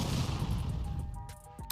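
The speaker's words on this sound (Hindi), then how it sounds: "जिससे एक जबरदस्त धमाका होता है।" Bomb warhead detonation as a sound effect: a loud, rumbling blast that starts at full strength and decays over under two seconds, with crackling debris and a faint tonal ring at the tail.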